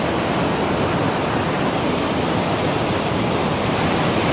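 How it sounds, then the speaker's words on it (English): Water rushing down a canyon, fed from several directions, making a steady, loud, broadband roar that holds unbroken throughout with no voices. "the water comes downstream on this canyon from multiple directions"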